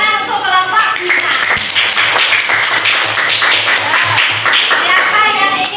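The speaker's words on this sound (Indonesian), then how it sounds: "Tepuk tangan untuk kelompok kita." Elementary school classmates applaud a presenting group in a fifth-grade science class, giving loud, close, rhythmic clapping that runs without a break, with children's voices mixed in.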